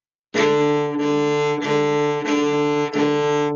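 A bowed string instrument plays five sustained, resonant low notes in a row, each bow change briefly dipping before the next tone swells in.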